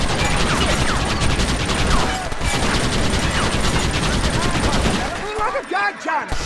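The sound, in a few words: gunfire in Red Dead Redemption video game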